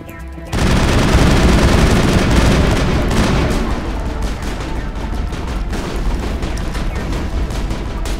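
Sustained assault rifle fire in Mass Effect, during the Virmire mission, starts abruptly after a brief quiet lead-in and keeps going as loud, dense, continuous bursts of automatic shots mixed with heavier impacts.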